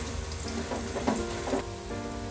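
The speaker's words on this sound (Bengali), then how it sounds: "এখন আমি এতে দিয়ে দিচ্ছি আদা বাটা এবং গরম মশলা বাটা দিয়ে আবার আমি নাড়াচাড়া করছি" Onions fry in a pan with ginger paste and garam masala paste while being stirred, a steady sizzle with several soft scraping strokes in the middle, no voices.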